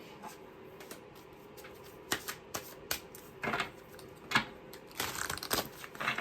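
A deck of tarot cards being shuffled by hand, with soft crisp riffling and flicking bursts coming in irregular clusters, close and fairly quiet, with no talk.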